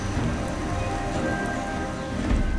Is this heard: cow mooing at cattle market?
no